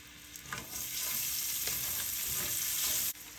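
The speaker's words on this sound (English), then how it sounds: "2 tablespoons of olive oil. And now I add the shallot or the onion." Shallots frying in olive oil give a steady close sizzle with light stirring scrapes, loud and continuous until it cuts off near the end.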